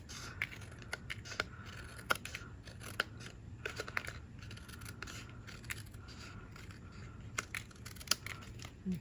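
Scissors trimming strips of paper card for a stamped card, a series of crisp, close snips at irregular intervals over quiet background, no speech.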